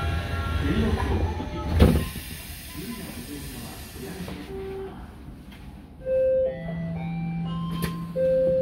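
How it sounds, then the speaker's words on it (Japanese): Inside a Tokyo Metro Hibiya Line subway car, a hiss and a thud as the doors shut, followed by a tonal chime and the rumble of the carriage. "ドアが閉まります。"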